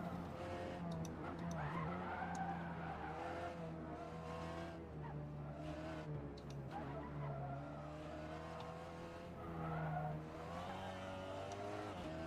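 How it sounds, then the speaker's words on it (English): Race car braking hard downhill from high speed on the Nordschleife in a racing game, a loud steady engine drone with falling and rising pitch and squealing tyres throughout. "Very high speed section, just downhill, 250 kilometers an hour, so you have to brake pretty hard here."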